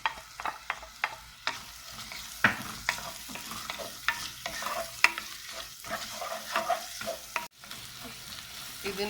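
Onion and green chili sauté in a pan, a soft, steady sizzle punctuated by frequent rhythmic spatula scrapes and taps against the pan, fairly close and unaccompanied by speech.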